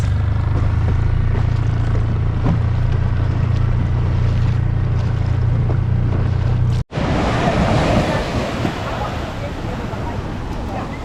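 A small dinghy coming ashore through ocean swell along the California coast, with a constant loud rush of surf and wind noise, a low motor-like hum that cuts off abruptly, then breaking waves washing close by.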